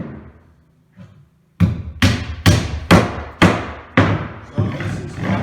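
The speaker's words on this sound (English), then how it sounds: "So I just have to finish nailing it off." Hammer blows drive nails into garden shed framing, with a few light taps followed by seven loud, close, sharp thuds at a steady, even pace.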